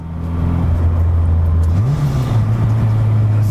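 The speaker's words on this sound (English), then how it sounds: "Slam this thing into gears." Cheap Honda Civic engine under load, a steady low drone that dips and shifts pitch as the car is slammed into the next gear, then settles into a new rumble, close and loud without talk.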